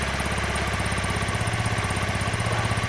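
A Honda Varadero 125 motorcycle engine runs steadily with freshly fitted carburettors and airbox and the idle not yet set, a loud close rapid putter with a constant rhythmic throb throughout, no talking.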